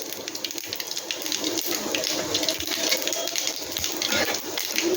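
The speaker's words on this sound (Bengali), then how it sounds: "এটা একটু ভাজা ভাজা করে নিলাম" Black mustard seeds and cumin frying in hot oil in a wok give a steady, close hiss with dense crackling and popping throughout, no voices.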